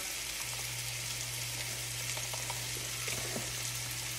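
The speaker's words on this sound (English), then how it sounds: "So when my beef is browning" Beef browning in a hot pan for bulgogi ramen, a steady soft sizzle and crackle with a low continuous hum underneath, no voices.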